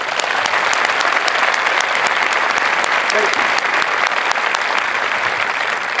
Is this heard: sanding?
no